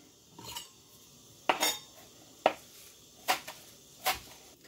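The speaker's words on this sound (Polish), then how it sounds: "Posiekamy od razu szczypiorek." Five separate knife chops through chives on a cutting board, spaced roughly a second apart, each a sharp crisp hit with a brief tail, with no talking.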